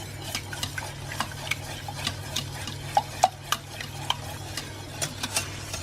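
Muffin batter with vanilla is whisked in a bowl in a quick, even rhythm of light ticking and scraping strokes, close and fairly soft, with no one speaking.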